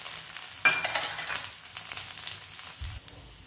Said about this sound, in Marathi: थोडं तेल घेतलंय, मोहरी टाकूया, जिरे, थोडा हिंग आणि लसूण पाकळ्या करून घेतल्या त्याच्या